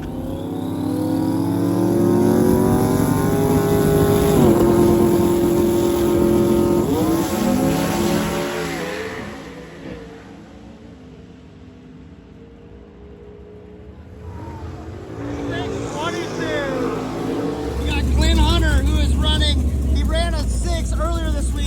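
A drag race car from the unlimited class at a Sick Week event roars down the strip, a loud rising engine howl that fades into the distance, then a nearer engine rumble returns, with a commentator talking throughout.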